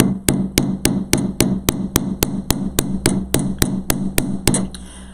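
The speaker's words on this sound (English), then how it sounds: "Now I'm going to be hammering, so it might be a little loud on your broadcast, so be aware we're going to hear some pounding." A chasing hammer pounds 16 gauge wire on a steel bench block in about sixteen sharp, evenly spaced metallic strikes, close and loud, with no talking.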